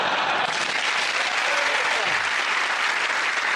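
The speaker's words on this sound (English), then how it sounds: "Randomly, I say well done and people clap." A television panel show studio audience claps on cue in a sustained, dense burst of applause that fills the whole stretch, loud and even.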